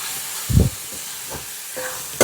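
Spinach stirred and frying in hot oil in a pan over a wood-fired stove, giving a steady soft sizzle with a few louder stirring scrapes and a sharp clink at the end.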